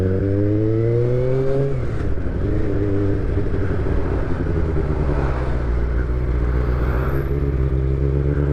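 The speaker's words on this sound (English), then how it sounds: "it's not just the note of this little stubby exhaust that does it" A motorcycle engine with a short stubby exhaust revs up and then settles into a loud, deep, rumbling idle with a throaty exhaust note, close by and continuous.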